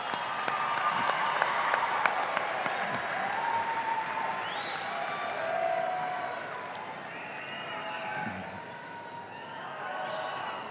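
Applause from a university commencement audience at a fall graduation ceremony, a broad, distant wash of clapping that holds steady under faint talk and a few brief tones.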